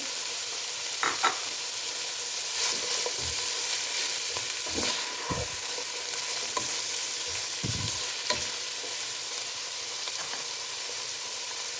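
Onions sizzle lightly in a pan while being cooked for chicken pasta, a steady close frying hiss with occasional spatula scrapes and stirring knocks throughout.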